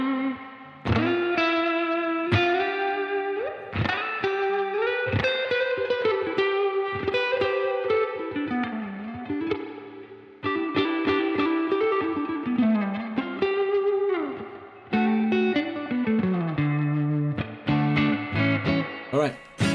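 An electric guitar plays through a UAFX amp pedal with its spring reverb turned all the way up, sustained distorted notes and slides trailing into a springy wash across a long phrase with several pauses.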